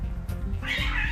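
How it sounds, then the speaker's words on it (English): A cat outside yowls during a fight with another cat, a loud, drawn-out caterwaul rising into a high wail over low background rumble, brief and close, with no talking. "that cat is fighting with another cat"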